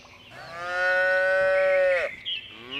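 A cow lets out a single long, loud moo that holds steady for over a second and then drops away, close by on a farm.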